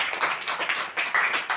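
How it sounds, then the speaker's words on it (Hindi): Short burst of classroom clapping for a student in a fifth-grade lesson, a brief round of hand claps with uneven rhythm, fairly close and moderately loud. "इनके लिए बहुत जोरदार तालियां, बहुत ही अच्छा।"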